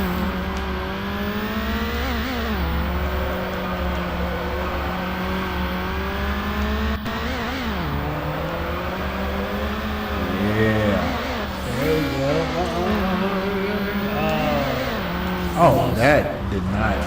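Racing cars in the video game Need for Speed, with steady engine drone and rising, falling revs as gears shift through corners, under game music and occasional talk.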